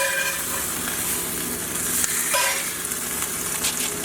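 Chicken pieces pan-roasting in a non-stick pan are flipped, giving a steady close sizzle and frying crackle throughout, with a brief louder hiss as they turn.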